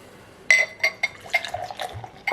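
Samuel Adams pumpkin ale pours into a glass, close and fairly loud, with a series of short splashing bursts and light glassy clinks, each followed by fizzing and gurgling.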